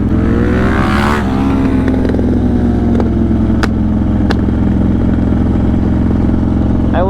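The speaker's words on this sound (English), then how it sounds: "back when he first had that bike, that was the sketchiest thing ever, was those pops" A motorcycle engine runs close and loud with a steady droning rumble, rising in a rev early on, and several sharp crackling exhaust pops break through in the middle.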